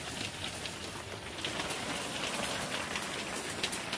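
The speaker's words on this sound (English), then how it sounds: "Listen to that. Got hail." Hail pelting down during a June thunderstorm, a dense, steady patter of hard strikes that holds for the full four seconds with no voices.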